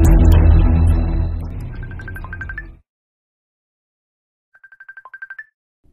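A cellphone ringtone plays a quick run of bright, repeated electronic beeps, first under a loud busy mix, then alone after a brief silence as a short rhythmic burst.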